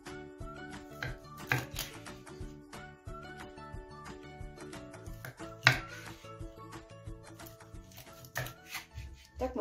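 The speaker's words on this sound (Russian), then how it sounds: "Так мы порежем сейчас всю скумбрию" A knife cuts lightly frozen mackerel into pieces on a board, with irregular close chops and crunchy knocks, a sharper strike midway, all fairly quiet.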